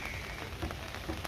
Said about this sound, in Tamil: இன்றைக்கி இந்த வடகிழக்கு பருவமழை பெய்து கொண்டிருக்கிறது